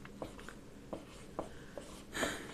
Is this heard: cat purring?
no